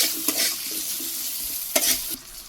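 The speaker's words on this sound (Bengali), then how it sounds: "লবণ দিয়ে আগে একটু ভাজি করে নিই" Potatoes stir-fried with salt, turmeric, dried chili powder and green chilies crackle in a pan, with two sharp spatula scrapes cutting through the close, continuous sizzle.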